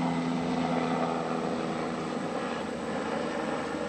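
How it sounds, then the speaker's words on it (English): Steady, continuous drone of an airplane passing overhead above a garden, a broad even roar that holds throughout without fading. "Just like the airplanes never go away."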